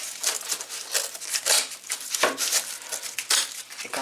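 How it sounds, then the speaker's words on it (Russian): Thick, porous cardboard is cut into strips outdoors for a campfire in damp weather, giving repeated rough crunching and tearing strokes at close range, uneven in rhythm and fairly quiet. "Только полоски надо нарезать"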